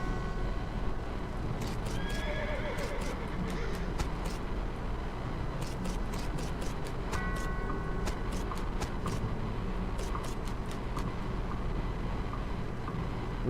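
A horse whinnies repeatedly over steady clip-clopping hooves in the video game West of Loathing, the neighs recurring in short bursts against a constant low rumbling backdrop, with no talking.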